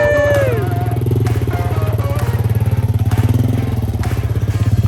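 A motorcycle rides along a canyon trail, its engine droning steadily and close throughout with a rhythmic pulsing beat, with no talking.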